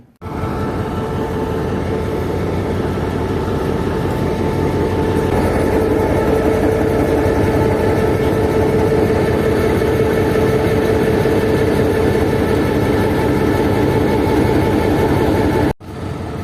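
GMU diesel locomotive 154809 at the head of the 146 Down Sukkur Express, a steady loud engine drone and rolling rumble throughout, ending with a brief cut near the end.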